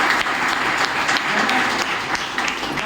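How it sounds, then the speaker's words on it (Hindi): An audience gives a loud round of applause, dense continuous clapping filling the space throughout, with a faint murmur of voices mixed in. "एक बार जोरदार ताली होनी चाहिए"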